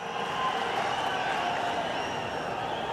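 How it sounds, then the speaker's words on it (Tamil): Crowd applauding at a large political rally in Madurai, a dense, continuous wash of clapping with cheering mixed in, steady and loud throughout. "அண்ணனுக்கு இந்த கைத்தட்டெல்லாம் பத்தாது"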